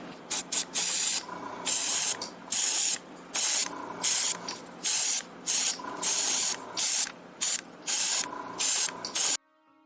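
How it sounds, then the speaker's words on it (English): Matte varnish sprayed from an aerosol can over a painted Zombie Drax miniature from Marvel Zombies Zombicide: a series of close, loud hissing bursts, short and longer, separated by brief pauses. "we're just gonna put a matte varnish over the top, and away we go"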